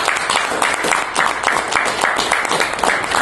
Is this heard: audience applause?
yes